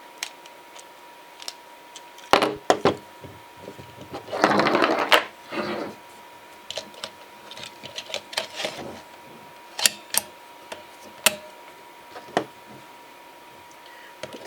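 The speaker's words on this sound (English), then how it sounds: "Back to the screwdriver." A screwdriver works a screw on the battery cover of a Leap Frog Twist & Shout toy, giving sparse sharp clicks and ticks with a brief rattling scrape partway through, close and otherwise quiet.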